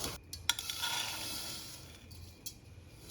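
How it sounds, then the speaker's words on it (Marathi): Wheat vermicelli and semolina being stirred in a hot pan: faint scraping with a few light metallic clinks and a soft sizzle, close by and with no talk. "या गव्हाच्या ज्या शेवया आहेत 2 वाटी आणि ह्या रव्याच्या गरम साणीला हे छान आधी पहिला मिक्स करून घेऊ"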